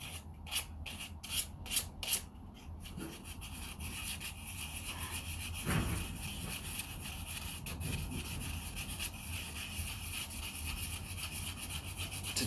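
Rough rubbing and scraping of sandpaper by hand on a wooden tobacco pipe, a few quick strokes at first, then steady continuous sanding close by.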